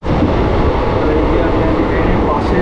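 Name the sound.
train at Sealdah railway station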